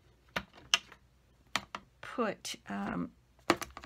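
Crafting dot runner laying glue dots onto a length of ribbon for a note card, giving sharp, brief clicks and scraping bursts with short rolling rasps in the middle, heard close up alongside a woman's speech.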